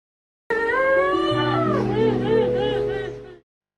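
A cat meows in one long, wavering cry of about three seconds, sounding close and fairly loud, at a housing estate in Tambun Selatan, Bekasi.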